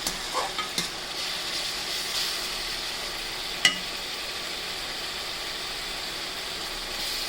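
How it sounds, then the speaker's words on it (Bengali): Duck meat with spices frying in a little oil in a home kitchen in Dhaka, a steady soft sizzle with a few light stirring clicks and one sharp clack partway through, no voices. "কম তেল দিয়ে রান্না করতেছি"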